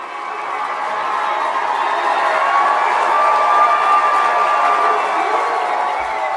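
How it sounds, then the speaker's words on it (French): Crowd at a Paris political rally in June 2010 cheers and applauds loudly and steadily, a dense, sustained roar of clapping and shouting that swells through the middle and holds to the end. "Je vous demande d'applaudir Monsieur Julien Drey."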